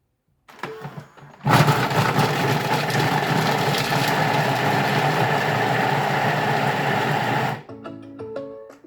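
A food processor chops a quartered onion at speed 5, a loud steady motor whir lasting about six seconds, starting and stopping abruptly with faint voices before and after.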